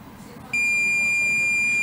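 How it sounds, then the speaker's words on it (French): A multimeter gives a continuity beep while a MOSFET is tested as shorted, a loud steady electronic tone starting suddenly after a quiet moment and holding. "Mais c'est en court-circuit, ça, parce qu'il sonne."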